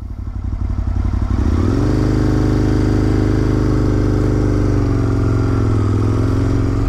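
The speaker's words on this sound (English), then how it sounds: "Taking off with the Aprilia RSV Mille here." A roughly 20-year-old Aprilia RSV Mille R motorcycle with a slightly bored-out engine and a tired throttle pulls away. Its deep, close engine note climbs sharply within the first two seconds, then holds a steady, loud drone.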